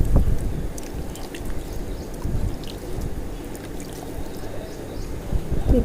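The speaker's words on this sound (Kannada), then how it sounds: "ಈ ಥರ ಹಾಕಿ ನೀರು ಚಿಮುಕಿಸಿ ಬೀಜ ಹಾಕಿದ್ದೀನಿ" Water sprinkled by hand over soil freshly sown with seeds, a soft steady patter and trickle close by with scattered drips, running continuously without voices.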